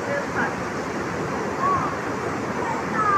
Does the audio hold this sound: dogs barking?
no